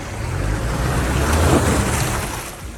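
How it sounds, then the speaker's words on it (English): A swollen mountain river rushes after an early snowstorm, a loud continuous roar with wind buffeting the microphone and no voices. "Oh, look at all the water in the river."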